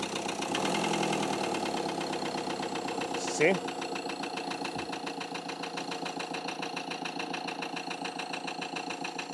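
A Ford Transit Custom van's engine idles with an even, pulsing mechanical hum, while a person speaks briefly over it and a short clunk sounds partway through.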